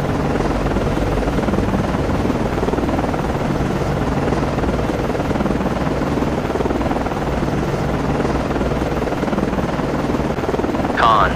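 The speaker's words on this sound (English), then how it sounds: "Con, Flyco, aircraft landing" Military helicopter landing on a destroyer deck in the naval game Cold Waters, a steady loud rotor roar with deep thudding throughout, continuous and close, with a brief sharper burst at the very end.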